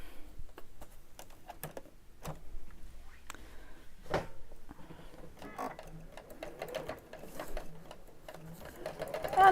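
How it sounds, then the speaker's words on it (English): Sewing machine stitching around the edge of fabric, soft close clicks and a low mechanical hum building steadily, with a faint voice in the background. "And I'm just going to sew right around the edge, leaving the top open."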